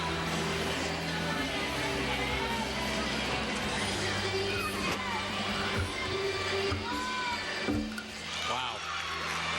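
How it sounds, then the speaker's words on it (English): Large crowd at a 2008 NCAA women's college gymnastics meet, Arkansas at Alabama, filling an arena with a steady loud roar and murmur throughout, a commentator's voice talking over it. "Huge crowd."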